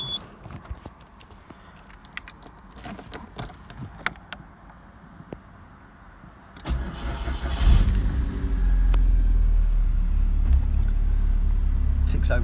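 A Porsche 968 Sport with a 3-litre engine and balancer shaft cranks and fires up after several seconds of faint clicks and handling noise, then settles into a steady, smooth, low idle close to the microphone.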